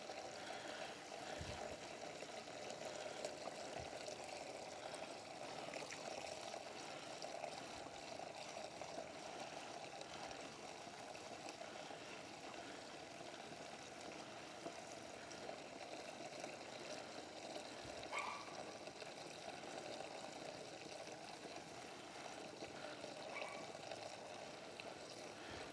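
Fuel draining steadily from the lines of a U-Haul F600 truck being cleaned of black varnish goo, a continuous low trickling pour that runs throughout with no voices over it.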